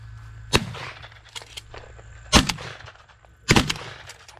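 Three loud shotgun blasts ring out during a dove hunt, spaced irregularly over a few seconds, each a sharp close crack with a brief outdoor tail.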